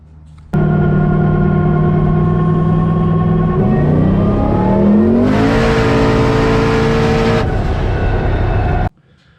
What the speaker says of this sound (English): the car pulls good, pulls strong